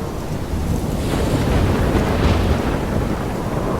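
A thunderstorm by the sea in the video game Life Is Strange, heard as loud, dense wind and surf roaring in a continuous rumble with no break and no voices.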